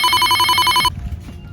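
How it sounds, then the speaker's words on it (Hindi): A telephone rings loud and close with a bright electronic ringtone, sustained for most of a second and then cut off abruptly, leaving faint room noise. "अरे इनका फोन।"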